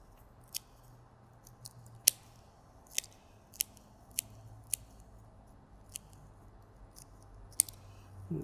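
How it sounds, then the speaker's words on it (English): Scissors snip through the structural roots of a bonsai tree being prepared for a pot, giving a dozen or so sharp, close, quiet cuts at irregular intervals over a soft background hush. "Snip a little bit more of these structural roots."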